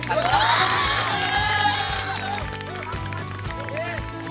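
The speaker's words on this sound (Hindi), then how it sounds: "एक बार जोरदार तालियां।" At a Class 10 school farewell, a crowd of students claps loudly and cheers, with children's shouts and whoops mixed into a sustained, lively roar that eases slightly toward the end.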